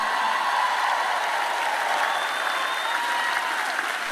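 A large audience at a Christian teaching event breaks into sustained applause, a steady dense clapping that stays loud and even from start to finish.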